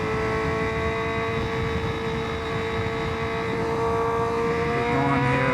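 A Honda CBR1000RR-R sport motorcycle engine drones steadily and close, its pitch rising slightly as it accelerates, with no voices over it.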